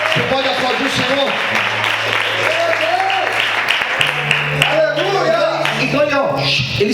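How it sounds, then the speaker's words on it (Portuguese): A church congregation claps in praise during a service, scattered applause mixed with sustained keyboard chords and voices singing or calling out over it. "Você pode aplaudir o Senhor."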